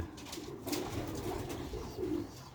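Old Sialkoti pigeons coo softly in a low, repeated throaty rumble, several overlapping calls close by with faint background noise and no talking.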